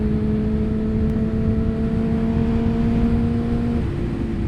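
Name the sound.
tuned 2005 Suzuki GSXR 600 motorcycle with Yoshimura exhaust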